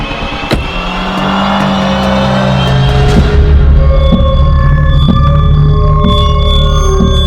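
Car engine left idling at night, a loud steady low hum with a faint rev at the start, accompanied by sharp clicks and high tonal beeps, with no talking.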